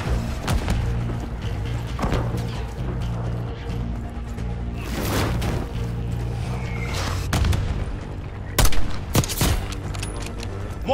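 Heavy mortar blasts and rattling gunfire from a Call of Duty: Black Ops 6 campaign battle, dense and continuous, with booming impacts rising near the end.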